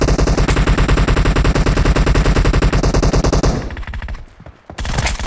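Rapid automatic gunfire in the mobile battle royale game Battlegrounds Mobile India, loud and continuous for several seconds before cutting out briefly, then resuming.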